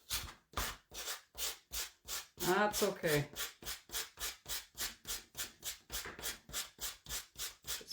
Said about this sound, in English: now I'm sanding off